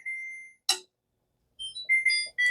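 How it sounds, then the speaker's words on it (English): Kitchen timer beeping during dinner cooking, a short sharp tone, a clatter, then a quick run of bright electronic beeps close by. "Turn off my timer."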